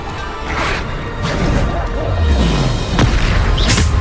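Spell blasts from Bombarda in Hogwarts Legacy, a run of heavy booming impacts and crashes with whooshes, loud and continuous over dense game effects.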